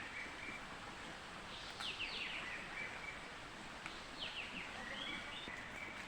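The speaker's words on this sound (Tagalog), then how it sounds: "Wow, ingay ng ibon." Birds calling in a forest on the way to a waterfall, thin chirps and short descending whistled phrases repeating faintly over a steady hiss of rushing water and rustling; no voices.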